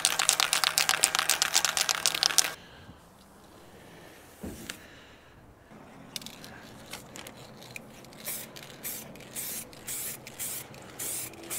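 Aerosol or spray gun paint hissing onto an Audi during a cheap home respray, a steady loud spray burst at the start followed by quieter intermittent spritzes and handling noises.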